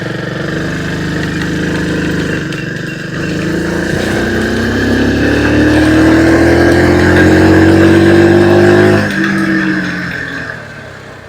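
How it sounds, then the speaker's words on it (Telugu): A 2026 TVS XL100 moped engine runs steadily during a ride, its pitch climbing gradually as it accelerates before easing off near the end. The engine is loud and close, with a mid-pitched drone and no talking. "సో ఇప్పుడు ఇంజిన్ పర్ఫార్మెన్స్ చూద్దాం ఒకసారి."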